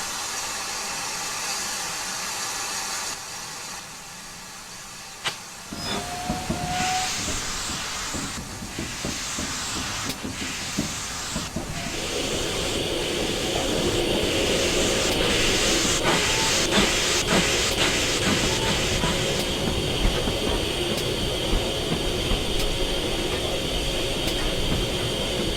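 A GWR Small Prairie steam locomotive in Train Simulator 2015 starts moving toward a head shunt, with a loud sustained hiss of steam building up, rhythmic chuffing and rail clatter growing denser and louder over time, no speech.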